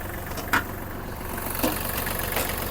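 The three-cylinder diesel engine of a Kubota GL-21 mini tractor idles steadily nearby, a low even chugging with a couple of brief clanks on top, no talking.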